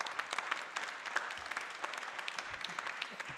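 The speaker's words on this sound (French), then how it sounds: "je crois que vous pouvez l'applaudir" A conference audience at a national wind energy colloquium applauds, a soft, steady patter of many hands clapping that stays faint and distant and even throughout.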